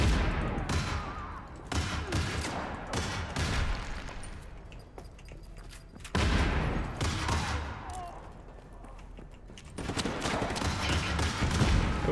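Gunfire and explosions in the open-world action game Just Cause 3 as a grenade is used against a foe: dense rapid volleys with heavy booming bursts, loud and continuous throughout.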